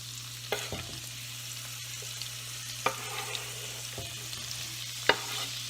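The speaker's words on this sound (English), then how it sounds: "Now we have our pan going, so we will put in the peppers and the onion." Chopped peppers and onion fry in bacon grease in a pan, giving a steady soft sizzle under a low hum. A few sharp clicks come from a spatula stirring against the pan, and no one speaks.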